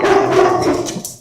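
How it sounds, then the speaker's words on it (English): A couple of dogs bark indoors in a kitchen during a live cooking show, a loud close burst of barks and yips lasting about a second before trailing off. "What are you guys barking at?"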